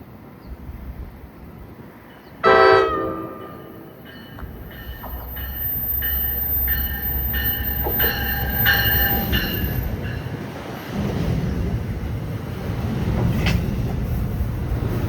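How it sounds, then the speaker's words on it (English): A local commuter train bound for Trenton rolls past on the Northeast Corridor, opening with a sharp horn blast, then a long steady rumble with wheel clatter and squeal, wind buffeting throughout. "Another local train to Trenton."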